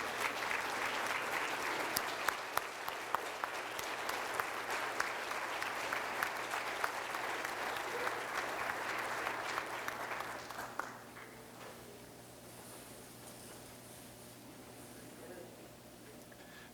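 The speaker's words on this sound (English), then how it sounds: "Please give a warm round of applause to the great Coach Craig Parrott." Warm applause from the audience at a high school hall of fame induction ceremony, steady clapping for about ten seconds before tapering off to a few scattered claps and room quiet.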